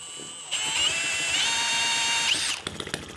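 A tiny working Lister-D vintage gas engine model, a small kit engine with a flywheel, fires and runs with a high, steady buzzing whine that starts abruptly, holds close and loud, then cuts to sputtering near the end.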